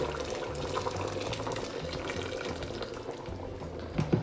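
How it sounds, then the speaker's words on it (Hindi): Three cups of boiled water poured into a pot of lamb and potato curry (aloo gosht), a steady splashing gush with sizzling and bubbling, close and continuous, no talk. "5 मिनट इसको भूनने के बाद आपने 3 कप बॉयल किया हुआ वाटर इसमें डाल देना है।"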